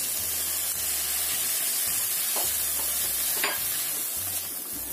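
Clams stir-fried in spicy satay paste sizzle loudly in a pan, with a continuous crackling hiss and repeated scraping stirs, close up and without talk.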